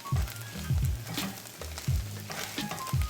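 Rice for Asian arancini being stirred in a pan with a salty, nutty Parmesan substitute, repeated low scraping strokes of the spoon against the pan over a soft background sizzle.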